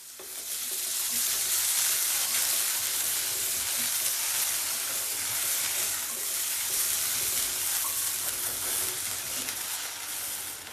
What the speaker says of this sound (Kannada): ಒಂದೆರಡು ನಿಮಿಷ ಚೆನ್ನಾಗಿ ಫ್ರೈ ಮಾಡಿ.